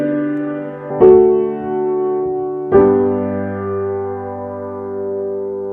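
Two sustained keyboard chords played a couple of seconds apart, an authentic cadence built on second-inversion triads, each struck clearly and left to ring and fade in a quiet room.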